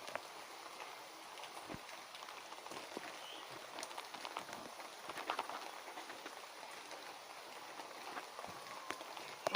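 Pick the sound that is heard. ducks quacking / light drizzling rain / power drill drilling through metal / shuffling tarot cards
light drizzling rain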